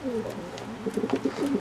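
A racing pigeon and fantail doves coo close by, a few soft rolling calls rising and falling over quiet background hiss.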